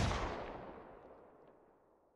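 Distant gunfire ambience for game NPC scenes: a single muffled boom that rolls away into a long, fading rumble with no other sounds.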